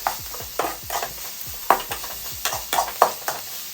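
Carrot, cabbage and capsicum stir-frying in a pan, a steady sizzle broken by regular scraping strokes of a spatula, close and fairly loud with no talking.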